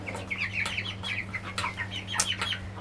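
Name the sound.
young chickens clucking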